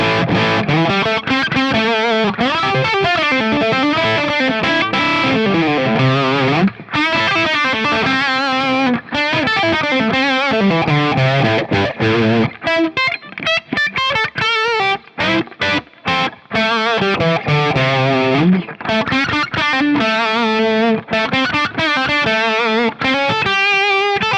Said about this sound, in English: put it in the middle position, so you're getting like full bridge pickup and about half neck pickup